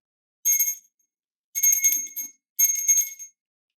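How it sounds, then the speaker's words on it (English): A hand bell rings three times, each bright, clear peal lasting under a second and separated by brief silences, close and loud. "I am going to ring this bell."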